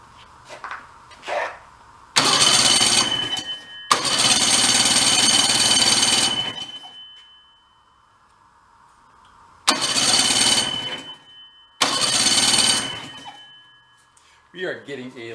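An old Rockwell engine being pulled over and briefly firing without running right, giving loud rough bursts of a couple of seconds each, with short gaps between attempts and faint talk near the start.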